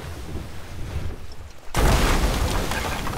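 A gunpowder barrel goes off in Sea of Thieves: a muffled, rumbling stretch gives way to a sudden loud blast, followed by a sustained roaring rumble.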